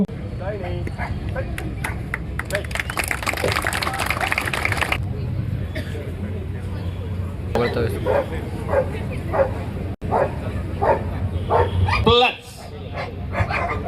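Several dogs bark, yip and whimper at an outdoor dog show during a coastal festival in Karwar, with a brown Labrador among them; the repeated barking carries over constant crowd chatter and someone talking nearby.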